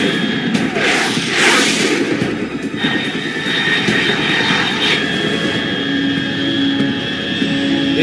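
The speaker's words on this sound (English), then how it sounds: "Unidentified aircraft detected." An aircraft roars past overhead in the video game Metal Gear Solid 3, a loud sustained engine drone with rising and falling whooshes and a high whine, with no speech.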